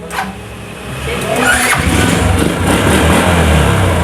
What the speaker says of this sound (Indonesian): motornya sudah bisa hidup